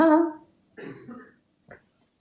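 A man coughs close by: one strong cough followed by a few shorter, quieter throat-clearing coughs spaced over about two seconds.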